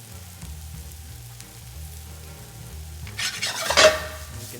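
Mushrooms fry and caramelize with thyme in a pan, giving a soft steady sizzle that swells into a louder burst of frying and stirring near the end.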